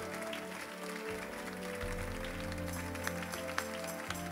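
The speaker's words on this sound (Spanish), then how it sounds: "Dale un aplauso al Señor." Congregation clapping together in a church during a Spanish-language sermon, a steady dense patter of applause filling the room with a low organ or keyboard tone sustained underneath.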